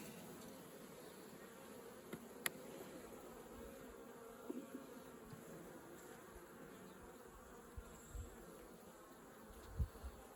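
Honey bees in an opened winter beehive hum in a dense, steady buzz, a soft continuous drone with a few brief louder bees passing close.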